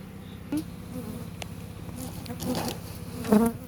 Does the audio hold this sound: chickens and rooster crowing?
no